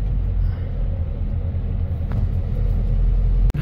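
A 12-wheeler truck engine rumbling steadily while driving on a bypass road, with a deep, continuous low drone close by and a sharp click near the end.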